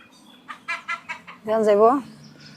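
Fayoumi hens clucking up close: a few short clucks, then a longer drawn-out squawking call, fairly loud against a quiet background.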